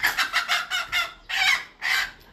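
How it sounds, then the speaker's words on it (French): Chickens clucking in a series of loud, close, bursty calls with short gaps, one hen audible alone with no talk. "Même Inès attrape la poule plus que vous"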